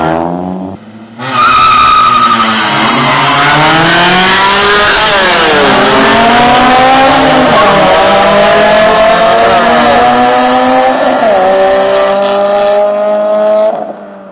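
Honda cars street racing, with engines revving hard and climbing through gears in repeated rising sweeps, loud and close, over a sustained roar and tire noise.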